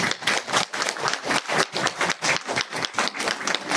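A crowd at a cooperative's anniversary inauguration ceremony claps in a steady, rhythmic burst, the hand claps close and fairly loud with a regular beat and no talking over them.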